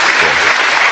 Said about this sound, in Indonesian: sekali lagi tepuk tangan untuk Mas Malik ya.